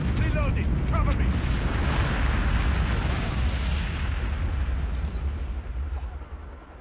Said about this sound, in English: Warning, friendly nuke launched.